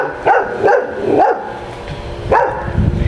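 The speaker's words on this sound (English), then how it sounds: "That's the neighbor dog barking at us." A dog barks four times close by, three quick barks followed by a pause and one more.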